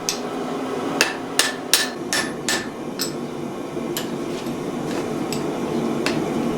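Hammer blows drive a drift through the eye of a forged axe head of thin, soft wrought iron welded to 1075 steel, a burst of sharp metallic strikes early, then sparser ringing hits over a steady background.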